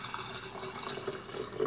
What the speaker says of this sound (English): I'm going to pour a little bit in the bottom